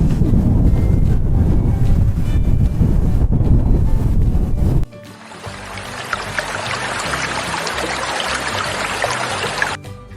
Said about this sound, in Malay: angin berdesir